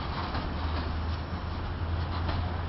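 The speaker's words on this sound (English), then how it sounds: "Last train" A passing train rolling by on a single track, a steady low rumble with a continuous grinding wash of wheels on rails, fairly close and constant, with no voices.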